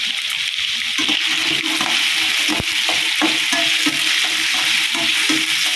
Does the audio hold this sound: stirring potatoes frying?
yes